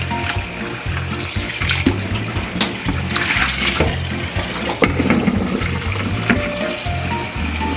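Water draining and splashing from rinsed Calrose rice in a sink, a continuous close gurgling pour with uneven bubbling pulses, no talking.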